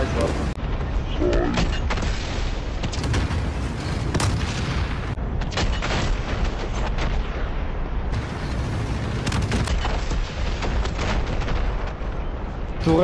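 A bazooka shot and a turret explosion in the video game Call of Duty Warzone, with loud, continuous booming blasts and gunfire filling the mix while a voice talks alongside.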